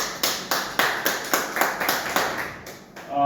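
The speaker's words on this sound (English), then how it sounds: "Huge round of applause for VPN." Audience clapping at a speech event, a small group giving about a dozen distinct, fairly even claps in quick succession, close and moderately loud, trailing off at the end.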